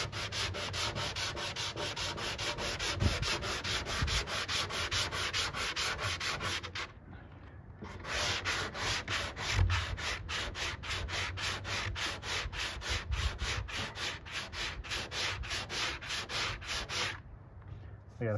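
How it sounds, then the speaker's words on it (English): Steady, continuous sanding on fiberglass bodywork of a 1964 Chevy Impala convertible, rhythmic rasping strokes close by with a brief pause midway, no talk. "We gotta sand that edge down."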